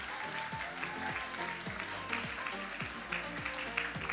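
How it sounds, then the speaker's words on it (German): An audience applauds at the Miss Kärnten beauty pageant finale, a sustained dense clapping layered over steady background music. "Applaus"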